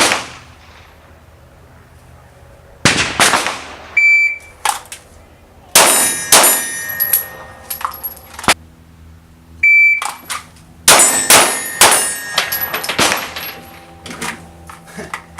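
Pistol shots ring off steel targets in sharp bursts at an outdoor range, with bright metallic pings and clangs that hang briefly between quiet gaps. A faint voice is heard now and then.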